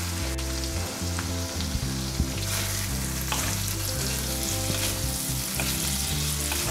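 Potato and drumstick (sahjan) pieces fry in cooked masala and oil, making a close, continuous sizzle while a spoon stirs and scrapes the pan with repeated knocks, steady and without any speech.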